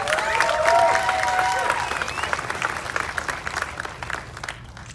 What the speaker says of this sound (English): So please can we give them a big round of applause